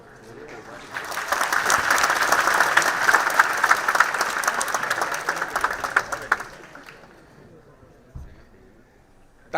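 A lecture hall audience at a talk on exam preparation bursts into dense, sustained applause that swells, holds for several seconds, then fades out, followed by a brief quiet and a small knock.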